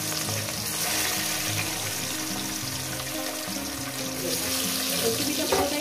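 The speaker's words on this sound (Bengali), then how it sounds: "তেল আমার গরম হয়ে গেছে, মাছগুলো আমি আস্তে আস্তে দিয়ে দেব।" Pieces of katla fish belly frying in hot oil, a loud constant hiss and sizzle that holds steady throughout, close with no speech.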